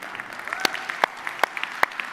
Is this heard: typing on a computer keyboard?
no